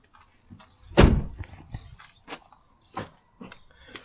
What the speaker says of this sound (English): Let's close the door and show you from the other side.